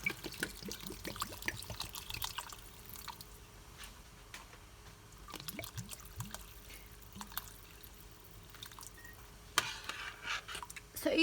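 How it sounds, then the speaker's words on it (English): Water poured into a pot of rice for a vegetarian maklouba, a soft splashing trickle with scattered drips and kitchen clatter, fairly quiet and close. "now I'm going to add water."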